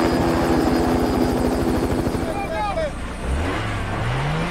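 A helicopter in a heist film scene, a loud close rotor chop under a dense engine roar, then a vehicle engine rising in pitch as the chopping fades, with speech over it.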